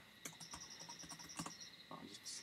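Keys clacking on a newly swapped computer keyboard, a quiet run of irregular taps with a few brief louder bursts, heard close in a calm room with no talking.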